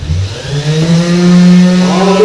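Woodshop dust collection system switched on, a loud close motor whine that rises in pitch as it spins up and then holds steady.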